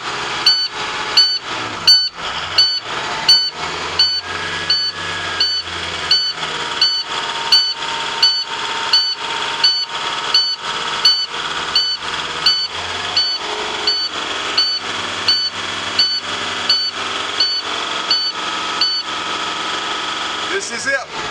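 On a school bus during an air brake test, a low air pressure warning buzzer sounds as repeated beeps in a steady rhythm of about one per second, loud and close over the engine's low rumble, for the whole stretch.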